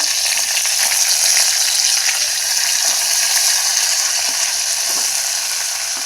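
Mustard seeds, cumin seeds and curry leaves sizzle and crackle steadily in hot oil for sambar tempering, a dense continuous frying hiss with scattered small pops, close and loud throughout with no talk.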